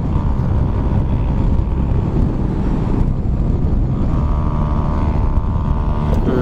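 A Yamaha Raider J115 Fi motorcycle engine runs roughly while riding, a loud continuous drone buried in heavy wind rush, with no clear break.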